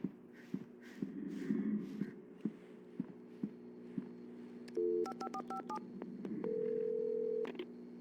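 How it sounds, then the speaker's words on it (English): In the video game Alan Wake Remastered, a series of quick telephone keypad tones beeps out, followed by a longer steady tone, over a low background hum with faint shuffling. "I had to get inside the gas station to find a phone to call for help."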